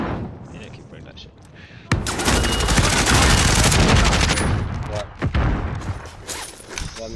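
Sustained gunfire from Call of Duty: Modern Warfare, a loud dense burst of rapid shots lasting a couple of seconds followed by scattered single reports, with players talking over the battle.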